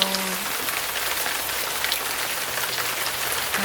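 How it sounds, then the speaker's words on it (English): Steady rain falling and pattering on surfaces, a dense even hiss, with faint brief tones near the start and end. "Guys, it's raining. It's raining."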